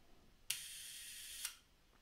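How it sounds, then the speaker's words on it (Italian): A film camera's shutter is released with a lever: a sharp mechanical click opens a one-second hiss-like whir that ends in a second click, close and alone in a quiet room. "vi mostro il funzionamento vedete io adesso scatto"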